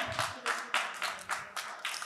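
Audience applause at a Turkish human rights short film award ceremony, a short run of rhythmic clapping at an even pace, moderately near and fairly soft.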